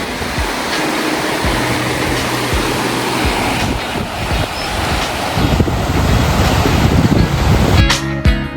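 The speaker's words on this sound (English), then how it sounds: "River flowing right through this beautiful valley." A river rushing through a valley near Paro, Bhutan, a steady broad roar of flowing water with wind buffeting the microphone, growing slightly louder toward the end.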